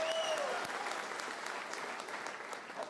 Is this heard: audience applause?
yes